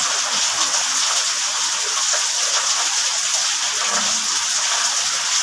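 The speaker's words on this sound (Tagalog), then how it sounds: "Maghapon yan guys, magdamag kagabi, ganyan ang ulan." Heavy rain pours down in Las Piñas, a loud, dense, steady hiss of falling water that holds unchanged throughout with no voices.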